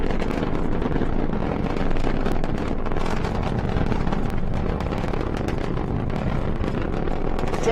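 SpaceX Falcon 9 Merlin engines roar during the Inmarsat 5 Flight 4 launch while throttled down near maximum dynamic pressure, a dense, steady, loud rumble without breaks.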